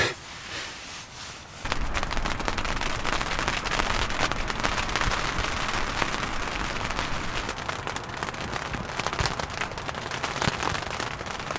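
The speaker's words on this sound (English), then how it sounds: "That is some of the iciest rain" Dense, steady icy rain patters hard on surfaces during below-freezing wild camping, a loud continuous hiss that starts suddenly after a quieter moment.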